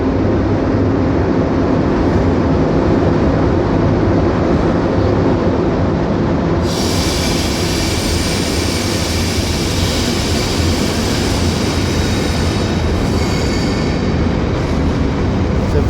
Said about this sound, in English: very long freight train.